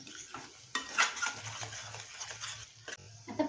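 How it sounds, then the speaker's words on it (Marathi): A spoon stirs and scrapes masala sizzling in a pan for green peas kheema, with irregular clinks and scrapes over a steady frying hiss, close and moderately loud, with no talk. "छान असा मसाला परतून घ्यायचा आपला"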